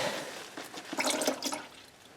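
Transmission fluid draining from a 2001 Lexus ES300 with a 3.0L engine, a close, steady trickling pour with splashy spatters that swell briefly in the middle before easing off.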